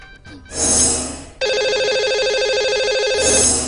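A telephone dialed to reach a lucky caller on a radio show: a short tone, then a loud, steady electronic ringback trill that carries on for a couple of seconds, with no one talking.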